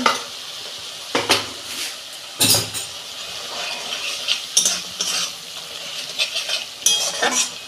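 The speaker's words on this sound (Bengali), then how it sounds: "এটা একটু ভালো করে কষতে নেব 2 মিনিট মতো।" Banana flower curry with cumin powder and sugar sautés in a pan, with repeated scraping stirring strokes clinking against the pan over a steady close sizzle.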